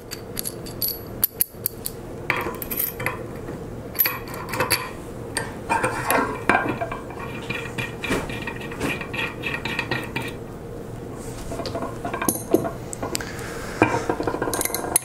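Metal clinks and scrapes of a jam nut being tightened onto a 4-inch stud on the plate of a Tosa modular clamping set, a steady run of close, irregular chinks and taps with no talking.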